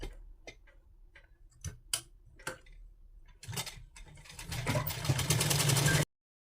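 A sewing machine stitches a salwar seam with a half-inch allowance. A few separate mechanical ticks and clacks come first, then the machine runs into a continuous rattling whir that grows louder before it stops abruptly.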